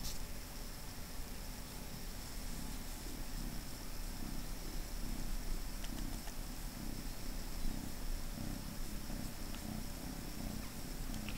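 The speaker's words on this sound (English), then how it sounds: "She's purring." A cat lying down indoors purrs steadily and softly, a close, low rhythmic rumble over faint background hiss.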